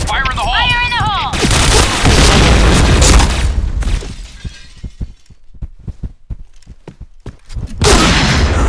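A grenade explodes in the Point Blank shooting game, with a loud, booming blast and shattering debris up close, followed by scattered sharp gunfire-like pops and a second burst at the end.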